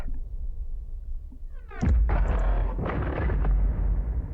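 Gunfire in the video game Hong Kong Massacre: a low droning background suddenly breaks into a heavy, booming shot followed by several more loud blasts in quick succession.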